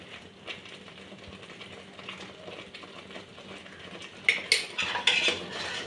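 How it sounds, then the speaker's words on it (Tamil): A metal spoon scrapes and clinks steadily around a pan as paneer butter masala curry is stirred, growing louder and more rattly toward the end. "நல்லா மிக்ஸ் பண்ணிக்கலாம்."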